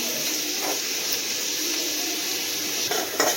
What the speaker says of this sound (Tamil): வெங்காயம் சேர்த்து நல்லா வதங்க விடலாம்